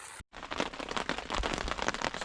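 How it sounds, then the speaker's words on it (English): Heavy rain hammers a plastic wrap shelter at night, a dense, loud, steady patter of drops striking the sheeting close overhead after a brief silent gap at the start. "it just started to rain pretty heavy here"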